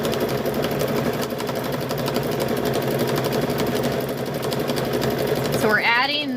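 A sewing machine runs fast and steady, triple stitching a car seat cover with a continuous rapid mechanical clatter, close up. A voice breaks in near the end as the motor stops.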